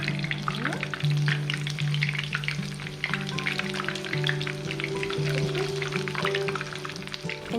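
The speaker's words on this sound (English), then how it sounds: "Okay, now let's start frying" Panko-coated shrimp deep-frying in hot oil for Japanese fried shrimp, close up. A dense, steady crackling sizzle with constant tiny pops runs throughout, with no talking.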